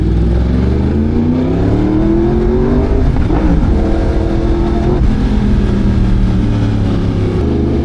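A Yamaha R1M sport motorcycle engine revs loud and close, holding a steady, sustained roar with its pitch rising and falling between throttle blips, with no voices.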